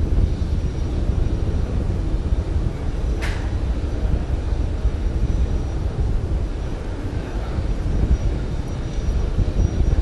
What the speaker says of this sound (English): This first stage will continue to burn for about another 20 seconds